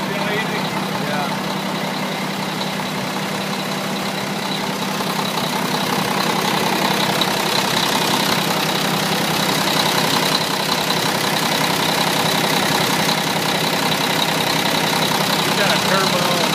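A Mack vacuum truck with a turbocharged engine idles nearby in a steady, even drone, and the tone rises slightly partway through.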